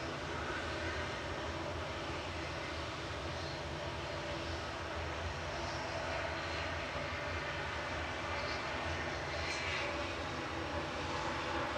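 Airbus A320 Classic G-EZRZ departing Manchester Airport for Paris Charles de Gaulle, a steady broadband jet engine roar held at constant loudness throughout, moderately distant.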